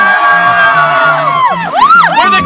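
A group of people cheers loudly up close, with overlapping whoops and rising-and-falling shouts packed into a couple of seconds.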